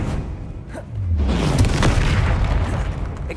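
A Confringo spell from the video game Hogwarts Legacy erupts in a deep, loud boom that swells into a sustained rumbling blast with a whooshing tail, heard alone without talk.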